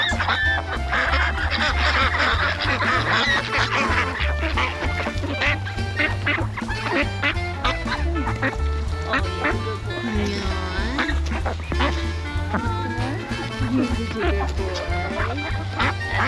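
Pekin ducks in winter quack loudly and constantly, a dense close-up flock chorus that runs for the whole stretch, with people talking over it.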